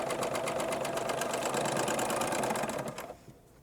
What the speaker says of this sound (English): just overlap a couple of stitches and then stitch right off